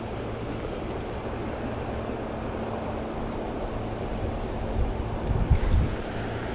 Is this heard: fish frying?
no